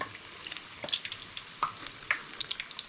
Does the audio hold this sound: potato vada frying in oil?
yes